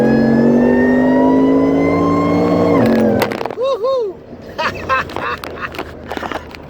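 VMP supercharged Ford F150 V8 revs hard and loud to high RPM, then shifts with an abrupt drop in pitch, followed by a brief chirping rise and lighter engine and tire noise as it pulls away.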